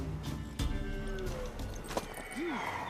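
A mare in The Witcher 3 video game: brief hoof thuds and a short whinny sound amid game ambience, with faint talk underneath.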